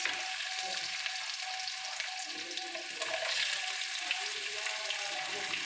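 Whole cumin seeds, cardamom, cashews and raisins sizzle steadily in hot oil in a pan for a vegetable moong dal khichuri, a continuous crackling hiss with no talk.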